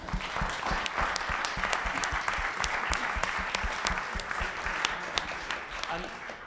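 Steady applause from a seated audience at the close of an academic talk, many hands clapping continuously and fairly close for several seconds, alone without speech.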